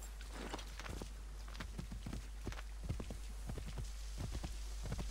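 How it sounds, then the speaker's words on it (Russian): A horse walks in Assassin's Creed 3, its hooves clopping in a steady, uneven rhythm of moderately loud thuds, with a soft rain-like hiss in the background. "О, лошадь."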